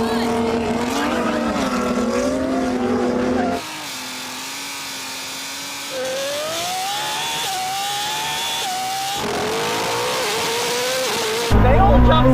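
Koenigsegg Jesko, Lamborghini Revuelto and a 1000 hp BMW M3 launching in a drag race: loud, close engines roaring with climbing pitch through gear changes, heard across abrupt cuts between shots.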